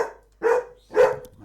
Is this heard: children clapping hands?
no